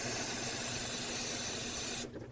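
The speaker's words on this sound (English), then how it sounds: "I'm going to rinse this down with some brake parts cleaner" Brake parts cleaner hisses from an aerosol can onto a front CV axle of a 2009-2010 Dodge Ram 1500, one loud continuous spray of about two seconds that cuts off abruptly, close up with no talking.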